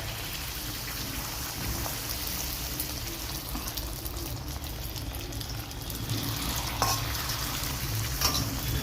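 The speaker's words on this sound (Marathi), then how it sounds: "नंतर दुसरी पुरी टाकायची आपल्याला त्याचप्रमाणे ही पण छान फुगून वर आली आहे ही पलटवायची आहे तिसरी टाकायची आहे" Puris frying and puffing up in hot oil for Mumbai-style pani puri, a steady close crackling sizzle with bubbling and occasional small pops running throughout.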